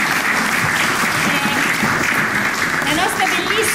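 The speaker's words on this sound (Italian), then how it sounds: "L'applauso del nostro pubblico." Audience applause at an awards ceremony, steady close clapping that fills the room at an even loudness throughout, with some voices mixed in.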